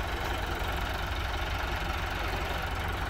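A Massey Ferguson 385 tractor with a newly fitted engine runs steadily at idle, a continuous close, loud diesel rumble with an even knocking beat and no break for the whole stretch.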